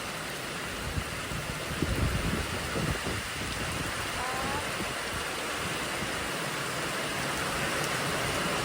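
Rain pours steadily during a storm in Laos, a dense, close and constant hiss of falling water with a few louder thuds near the start.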